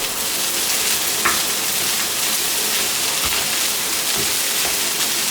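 Fried rice with grated carrots and green peas sizzles in a hot pan during stir frying, a loud, steady crackling hiss with a few clinks of the utensil, no talking.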